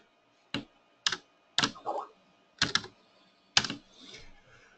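Typing on a computer keyboard in short separate bursts of keystrokes, five quick clusters spread over a few seconds, close and fairly clear against a quiet background.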